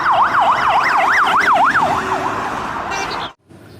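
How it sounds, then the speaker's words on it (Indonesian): A toy ambulance blares an electronic wailing siren, loud and close, cycling rapidly up and down for about two seconds before fading into a brief beep and cutting off. "lihat yang ini ternyata mobil ambulan"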